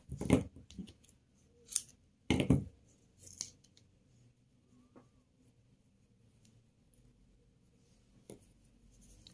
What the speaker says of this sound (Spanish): Cortamos nuestro hilo.